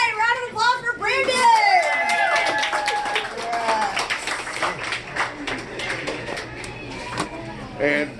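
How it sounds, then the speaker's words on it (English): A crowd at Kenny's Burger Joint breaks into a sustained round of applause and cheering for a man taking on the El Jefe Grande burger-eating challenge, with a voice talking over the start. "Everybody, a round of applause for Brandon!"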